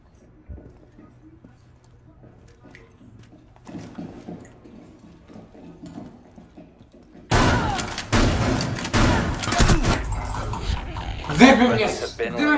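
Gunfire in Rainbow Six Siege bursts in loud and dense after a quiet stretch of low talk and game ambience, continuing as a sustained volley with voices chatting over it.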